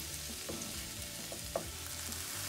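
Okra masala (fried bhindi) cooking in a pan over a low to medium flame, giving a steady, soft sizzle and frying crackle throughout with a few light stirring clicks, and no one speaking.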